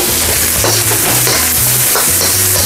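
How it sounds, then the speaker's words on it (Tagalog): Noodles stir-frying with carrots and shiitake mushrooms in a hot pan, a loud continuous sizzle broken by repeated scraping and tossing strokes of a utensil. "Stir lang po natin sila ng 2 to 3 minutes"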